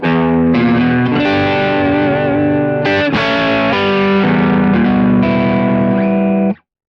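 An electric guitar played through a Kemper Profiler with a heavy effects mix rings out in loud, sustained distorted notes and chords, with a few sharp re-attacks before cutting off abruptly near the end.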